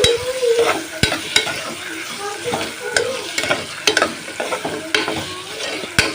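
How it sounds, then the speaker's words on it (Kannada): Carrot and other vegetables are stirred and fried in a pan for tomato bath: a close sizzle runs under quick, irregular scrapes and sharp knocks of the spoon against the metal, and no one talks. "ಈ ಥರ ಮಿಕ್ಸ್ ಮಾಡ್ಕೊರಿ"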